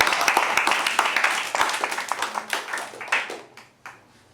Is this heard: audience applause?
yes